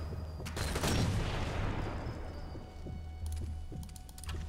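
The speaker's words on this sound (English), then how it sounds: "I'm kinda under heavy fire." Heavy gunfire in an online shooter: a burst of broadband shots at the start, then a sustained noisy rumble with scattered single cracks and a few sharp pops near the end, fairly distant and moderately loud.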